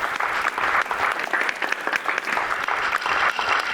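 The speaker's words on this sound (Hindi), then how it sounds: "ये लोग मेरे लिए नहीं ताली बजा रहे हैं, आपके हुनर की दाद दे रहे हैं" A courtroom audience breaks into steady, loud applause, dense clapping that fills the whole stretch without pause in a busy indoor hall.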